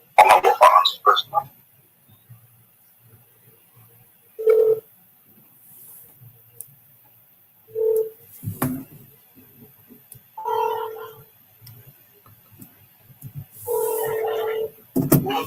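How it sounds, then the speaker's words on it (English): A telephone number is dialled for a call, producing several short, evenly spaced tone bursts separated by quiet gaps, with faint rustling and a throaty noise near the start. "Scott, let's ring them again"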